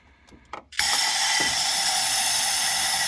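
A few clicks and rattles, then an aerosol can of carb cleaner bursts into a loud, continuous hissing spray into a 2014 Grand Cherokee SRT8 6.4 Hemi engine, holding steady to the end.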